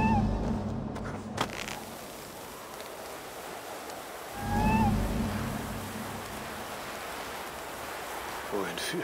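A kitten meowing in Assassin's Creed Valhalla, a couple of short, thin mews over a steady outdoor wind-like ambience.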